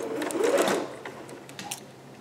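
A sewing machine stitches a skirt seam in a steady mechanical whir, loudest in the first second and then easing into a lighter running hum with small clicks, close by and with no talking.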